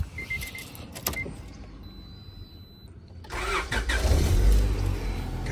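A 1998 Honda Integra Type R cranks and starts after a power window whirs, then idles with a low, steady rumble that swells slightly.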